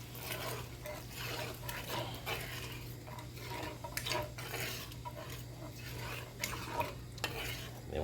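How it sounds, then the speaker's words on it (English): A spoon stirs roasted garlic tomato base through ratatouille in a home kitchen pot, giving soft continuous scraping and faint sizzling under a steady low hum, with a few brighter clinks toward the end. "we're just gonna give this a nice little stir"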